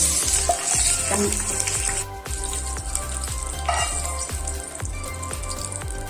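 A cumin and curry leaf tempering sizzles loudly as it is poured over dahi baingan, with a steady frying hiss and repeated clicks and taps from a spoon against the pan.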